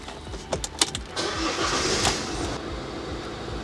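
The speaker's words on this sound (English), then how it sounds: "First of all, obviously start your vehicle." A camper van's engine starts with a few quick cranking bursts, then catches and settles into a steady close idle.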